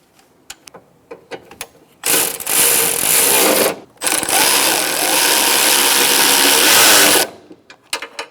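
A power tool spins and ratchets hard for about five seconds, briefly pausing midway, as bolts on a Ford Focus AC condenser are run down, with light clicks and handling noises before and after.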